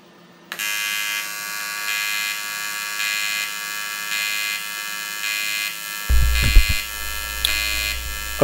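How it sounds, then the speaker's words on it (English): An AC TIG welder, the Stahlwerk WT242P, welds aluminum pieces with a steady, loud buzzing arc hum running continuously, with a few deeper thumps and crackles near the end. "Let's grab some pieces of aluminum and start"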